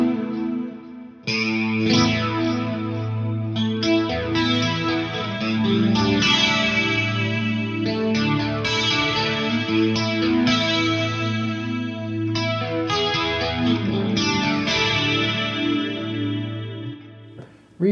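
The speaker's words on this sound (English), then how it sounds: "Bam! Another reverb. And this is going to be one of them big time. What's a large plate sound like in here?" An electric guitar played through a multi-effects pedal set to a large plate reverb rings out in sustained, washy chords with long shimmering tails and a chorused, slightly distorted edge, with no talking.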